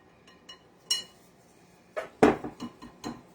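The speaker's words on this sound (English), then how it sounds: "I'm just going to use a whisk, and we're just going to mix it all together." A whisk mixing spices into flour in a bowl: quiet, irregular metallic clinks and taps, close by, with a brief cluster of knocks toward the end.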